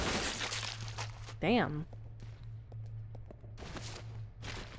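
Gunfire in Resident Evil 0 comes as repeated sharp shots at irregular intervals, moderately loud under game sounds, with a person speaking briefly over them.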